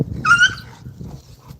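A puppy whimpers close by with a short, high, wavering whine, then falls quiet while faint soft movement continues in a home setting.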